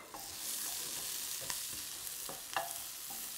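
Beef and pepper sizzle and hiss steadily in a hot wok, with a few sharp scraping stirs of a utensil against the metal, close and continuous with no talking.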